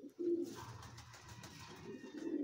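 Sport pigeons coo in a loft in Cullera, Valencia, soft low throaty calls repeating close by against quiet background rustle.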